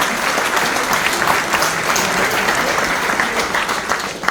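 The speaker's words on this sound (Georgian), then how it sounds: "ყველამ ტაში დაუკრავთ ქალბატონ ნინოს" An audience at a storytelling event in Kutaisi claps for a woman being honoured, a dense, even applause that holds steady and loud throughout with no voices over it.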